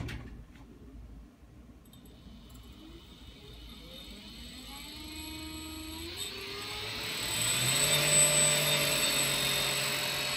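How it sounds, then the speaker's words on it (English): Milling machine spins up with a whirring whine that climbs steadily in pitch and grows louder over several seconds before settling into a steady high hum. "Alright, let's turn some power on. First, let's speed up the mill."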